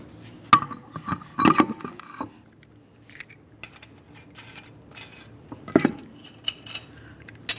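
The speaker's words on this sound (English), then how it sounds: "Let's install our wheel." Metal parts clink and clatter in scattered, sharp knocks as a front wheel goes back onto a 2012-2018 Nissan Altima, with quiet gaps between the clanks.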